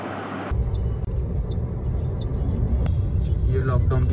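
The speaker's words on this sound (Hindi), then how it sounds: "ये ट्रैफिक एज यूजुअल है रोड पे" Lahore road traffic flows at a steady, dense rumble of passing cars and other vehicles, loud and close, with someone talking over it throughout.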